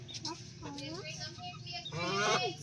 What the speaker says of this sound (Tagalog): May manok dara.